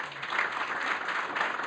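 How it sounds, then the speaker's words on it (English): Conference audience applause, a brief dense burst of clapping from a room full of people, steady and fairly loud throughout. "let's give her a very good round of applause"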